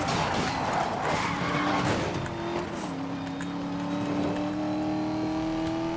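A car in the video game Need for Speed: Most Wanted slides sideways at speed, tires squealing in a long sustained skid over a steady engine drone, loud and continuous throughout.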